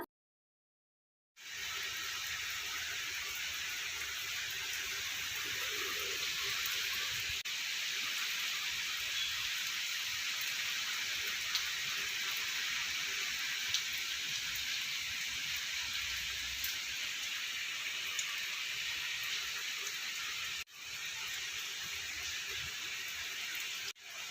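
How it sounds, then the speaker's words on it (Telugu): Steady, even rain hisses for a long stretch, a soft constant wash of falling water with no talking, cutting out briefly near the end. "దాదాపు పది రోజులకు పైగానే రోజు వర్షం పడుతుందండి మా దగ్గర"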